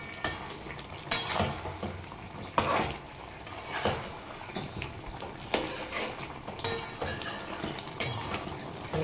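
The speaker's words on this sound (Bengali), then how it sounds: "চলো, দু মিনিট একটু নেড়ে নিলাম" Tomato chicken stirred in a pot on high flame, a spoon scraping and clinking against the metal in repeated strokes over a steady low sizzle, fairly close.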